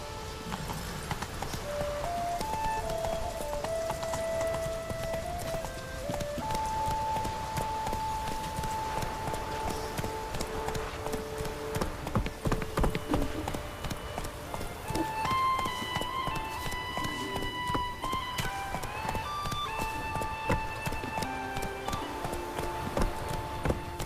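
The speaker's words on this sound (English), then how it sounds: "Whoa there, Roach." Hooves of the horse Roach clip-clop steadily in The Witcher 3, a continuous rhythmic trot heard throughout beneath game music with melodic tones.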